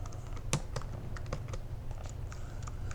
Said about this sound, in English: We're going to type in a WordPress password.